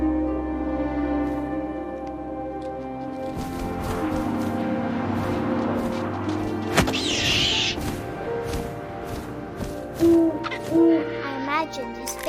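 Owl hoots in the What Remains of Edith Finch video game, a few soft low calls toward the end, heard over ambient game music with wind and rustling.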